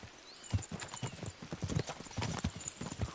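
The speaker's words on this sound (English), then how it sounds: "We should spur the horses on." Horses in a video game clip-clopping along with quick, rhythmic hoofbeats, fairly close and steady, with a faint neigh in the mix.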